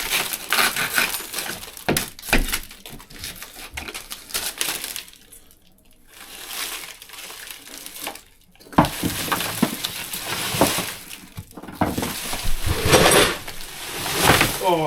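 Glass from a tour bus window being smashed and cleared, with crunching, scraping shards and clattering bursts throughout, broken by a brief quieter gap midway, then more loud crashing debris, with a voice cheering nearby.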